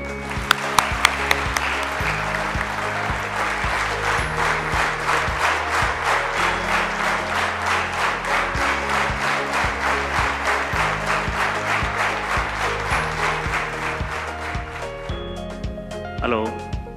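An audience applauds to welcome a speaker onto a stage at a talk event, a dense, loud, sustained wash of clapping that continues for the full stretch before thinning out near the end.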